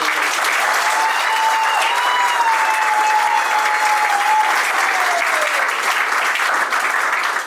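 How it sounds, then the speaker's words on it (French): Wedding guests at a French civil ceremony break into steady, sustained applause that fills the room without a break, a faint whistle or cheer rising over the clapping. "Vous pouvez acclamer très très très"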